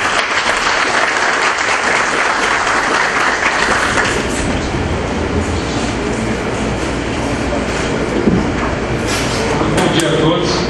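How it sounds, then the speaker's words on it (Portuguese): Applause from the audience at an open innovation conference opening session, loud and dense continuous clapping filling the room, steady throughout with a rumbling low background. "Uma salva de palmas."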